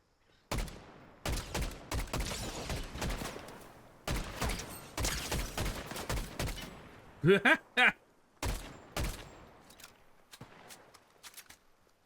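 Gunfire in the Fortnite video game arrives as irregular bursts of sharp shots, some single and some in quick clusters, spread across several seconds with short quiet gaps between them.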